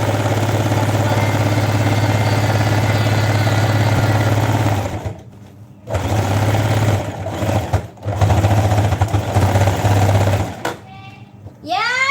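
A toy sewing machine runs with a steady buzzing mechanical hum close by, stopping briefly twice before starting again, with faint background sounds at the end.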